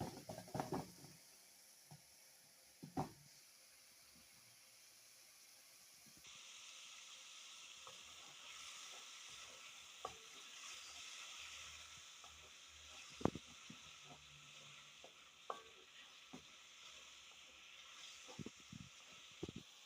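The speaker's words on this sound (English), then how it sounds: "let it fry very well." Onion, peppers and shrimp frying in a pan, a soft continuous sizzle that grows fuller partway through, with scattered clicks and utensil knocks, quiet and close.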